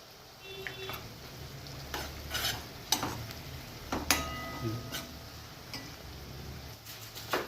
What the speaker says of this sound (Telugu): హాఫ్ టీ స్పూన్ ఉప్పు వేసుకొని ఈ ఉల్లిగడ్డలను అయితే మగ్గనియాలి